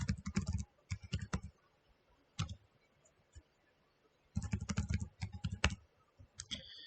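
Password typed on a computer keyboard while installing Ubuntu Linux, heard as close, clear bursts of rapid key clicks in two clusters with a quiet gap and a few single presses between, no talk.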